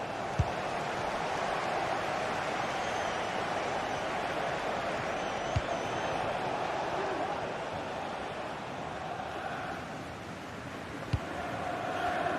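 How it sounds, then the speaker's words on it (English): A stadium crowd in a football video game roars as a steady, distant wash of massed voices, with a few faint sharp knocks scattered across it. "Well, the crowd are certainly not happy."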